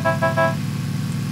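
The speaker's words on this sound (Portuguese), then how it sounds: "Tem buzina nessa bagaça? Agora tem, só clicar. Tem que mostrar que a gente tá chegando, né? É, buzina de trem." A car horn in PUBG blares three loud, evenly spaced blasts with a train-horn tone, cut off after about half a second, over a steady low engine rumble. No one speaks.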